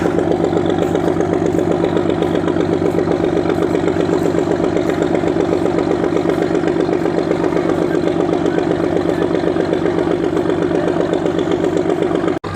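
A passenger launch's engine runs steadily as the vessel leaves the Barishal ghat at night, bound for Barguna, giving a loud, continuous throbbing drone with a regular rhythmic pulse and no talk.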